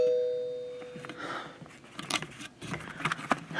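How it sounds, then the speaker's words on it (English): A house doorbell rings once with a sustained chime that fades after about a second, followed by faint clattering and rustling nearby. "somebody just rang the doorbell and"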